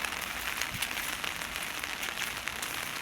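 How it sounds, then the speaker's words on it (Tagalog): Heavy morning rain pours down in a dense, steady hiss with constant pattering on surfaces, loud and unbroken throughout. "malakas na naman ang ulan"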